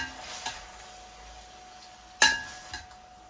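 Spanish-style pasta with sardines is stirred in a pan: faint sizzling beneath a few sharp clinks and scrapes of a utensil against the metal, spaced a second or two apart in a quiet kitchen.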